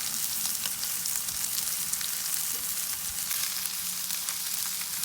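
A T-bone steak sears in oil in a hot pan, giving a steady, loud, hissing sizzle with faint spitting crackles throughout and no voices.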